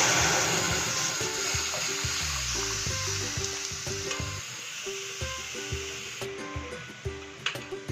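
Lentils tipped into hot oil with black mustard seeds for a Bengali sour dal with mango, giving a steady hiss and sizzle with stirring clinks and scrapes that grow more scattered toward the end, no voices.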